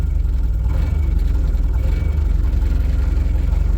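Farm equipment diesel engine idling unevenly and not firing on all cylinders, a loud, close, steady low rumble with a slightly ragged pulse throughout.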